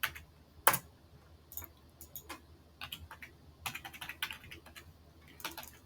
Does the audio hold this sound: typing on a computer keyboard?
yes